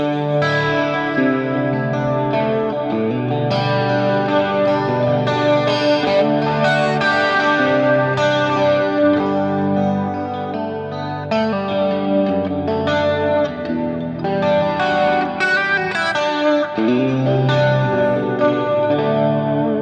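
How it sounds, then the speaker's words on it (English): Electric guitar through a Fractal FM3 with a flanger running in parallel, playing loud, continuous chords and melodic lines with a sweeping, swirling shimmer over the notes. "And this is the flange in parallel."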